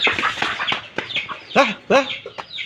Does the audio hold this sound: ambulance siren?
no